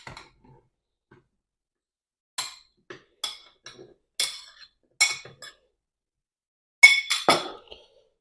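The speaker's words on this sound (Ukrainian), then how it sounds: "ми її розігріли, насипаємо вишні" Cherries tipped into a heated frying pan land in a scatter of sharp, light clinks and ticks, sparse bursts separated by near silence.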